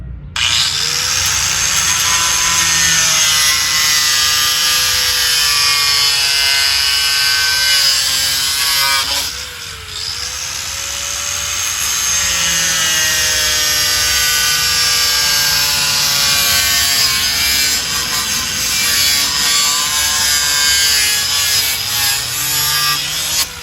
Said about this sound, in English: Got the grinder, switch back over to a cutting wheel. We're gonna follow the line for our first cut,